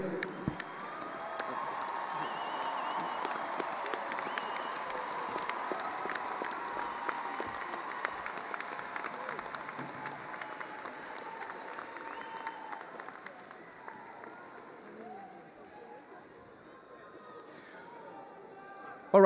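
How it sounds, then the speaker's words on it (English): A large outdoor crowd at a college commencement claps for the graduates, with scattered cheers and chatter mixed into a broad, sustained roar of applause that gradually fades. "How about one big loud round of applause for all of our outstanding graduates?"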